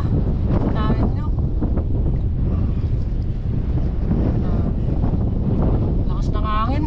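Strong sea wind buffets the microphone on a small boat out fishing, producing a constant heavy rumble, while excited voices break through the roar now and then.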